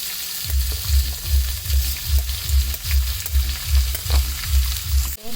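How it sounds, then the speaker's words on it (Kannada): Chopped onion frying with curry leaves in a pan of hot oil for a Karnataka roti oggarane, giving a steady close sizzle with a regular thumping beat from stirring, and no talking. "ಇದೆಲ್ಲ ಚಲೋ ತಂಗ ಫ್ರೈ ಆದ್ಮೇಲೆ ಈಗ ಆನಿಯನ್ ಹಾಕ್ಕೊಳತ್ತೀನಿ."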